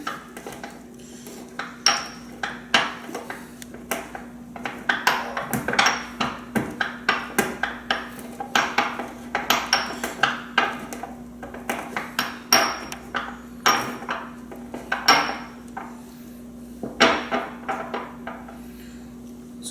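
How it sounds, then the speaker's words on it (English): Peppercorns and juniper berries crushed by striking them with the back of a pan, a long run of irregular sharp metallic knocks and clatters against a counter, some in quick clusters, close and clear with no talking. "I just need to break up the peppercorns and the juniper berries."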